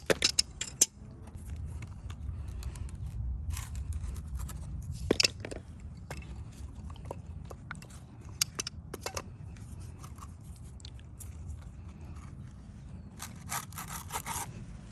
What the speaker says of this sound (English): to take off the border, simply just use a channel lock, wiggle it, twist it a little bit, and then pull it straight up